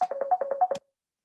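A phone ringtone chirps in a quick run of about eight evenly spaced electronic beeps, clear and close, then cuts off into silence.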